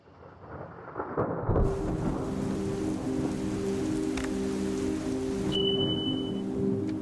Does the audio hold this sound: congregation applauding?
no